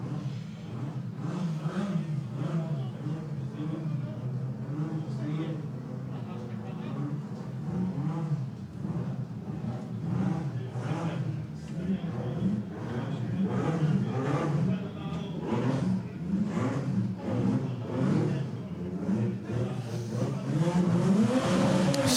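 Drag racing at Haunted Raceway, a Cosworth-powered dragster and a Toyota 3S-GTE-powered car, with steady engine drone and revving that builds toward the end, mixed with crowd and announcer-type chatter throughout.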